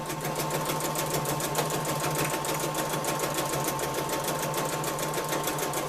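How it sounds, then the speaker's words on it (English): A sewing machine stitches burlap squares in a fast, even mechanical whir with a rapid regular needle rhythm, running continuously and close by without pause. "I'm going to finish sewing up all of these squares"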